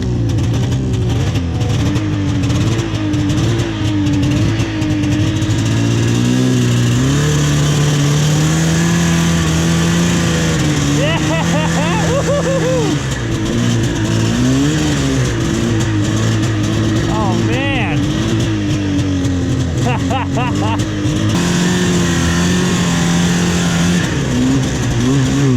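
A vintage snowmobile engine runs loud and close, its revs rising and falling with the throttle and bogging when opened suddenly, a continuous buzzing drone with voices heard over it.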